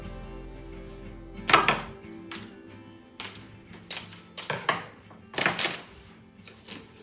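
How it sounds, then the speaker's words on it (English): Plastic watering tubing being cut, a series of separate sharp snips and clicks spread unevenly over several seconds, close up with no talking. "you want to cut another piece of tubing so that it's long enough to run between your bucket"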